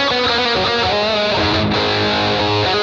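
An electric guitar through a Boss GT-1000 plays with a long 2.2-second reverb, giving a loud, dense, distorted and continuously sustained wash of tone with no break.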